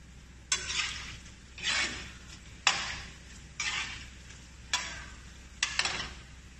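Gimat dumplings fry in a pan, the sizzle swelling in six repeated bursts as they are stirred or turned, with sharp clicks of a utensil against the pan, fairly quiet and close.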